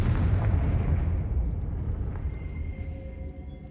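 A Confringo fire-blast spell explodes in the video game Hogwarts Legacy: a loud, heavy boom with a rumbling, crackling tail that slowly fades over several seconds.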